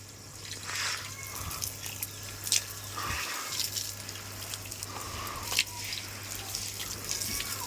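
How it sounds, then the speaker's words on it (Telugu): Steady splashing and trickling water from a motor pump hose washing a new house floor, with occasional drips and spatters, constant and fairly quiet throughout. "ఇంకా పైన దాకా కూడా నీళ్ళు ఫ్రీగా వెళ్ళిపోతున్నాయి"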